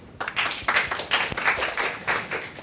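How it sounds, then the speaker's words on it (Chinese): An audience at a school project-study event gives warm applause welcoming a program director, a burst of many hands clapping close and lively, rising quickly and continuing steadily. "我们掌声欢迎洪主任。"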